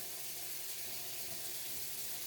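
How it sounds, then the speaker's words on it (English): Tap water runs steadily into a cooking pot holding collard greens, a continuous soft rushing hiss with no talk over it. "I'm still putting some water in there to make sure I have enough water in there"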